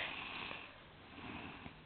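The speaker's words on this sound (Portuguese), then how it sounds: "Tá roncando?" A person snoring softly, faint rough breathing sounds repeating unevenly over a couple of seconds with a low background hiss.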